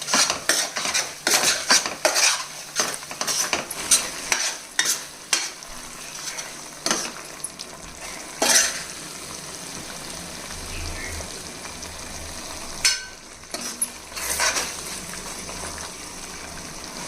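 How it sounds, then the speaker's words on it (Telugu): Ginger garlic paste fries in oil in a pan, sizzling steadily while a metal spoon scrapes and clinks against the pan in frequent, irregular stirring strokes, close and fairly loud. "అల్లం వెల్లుల్లి పేస్ట్ పచ్చివాసన పోయేంత వరకు వేగించాలి"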